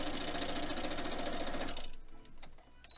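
A sewing machine runs fast and steady while stitching a foundation paper pieced quilt block, then slows and stops near the end, leaving a few faint clicks and handling noises.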